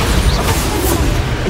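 A Bombarda blasting spell from Hogwarts Legacy erupts in a loud, dense explosive burst that fills the whole clip, sustained and close with no let-up.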